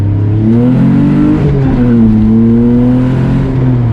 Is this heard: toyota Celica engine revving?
yes